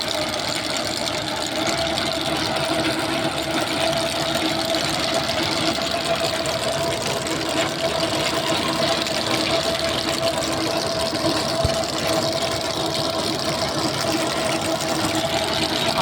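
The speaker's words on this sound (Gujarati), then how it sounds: "જો આ ડીપ માટે થઈને આ મશીન ચાલુ છે." A machine runs while a drip irrigation pipeline is laid in Ukhla village, Sihor taluka, giving a steady, close engine drone with an even hum that carries unbroken for the whole stretch.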